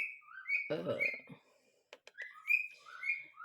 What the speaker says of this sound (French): je réponds à ces sifflements